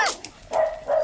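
A small dog gives two quick, close, high-pitched barks with a brief yip between them.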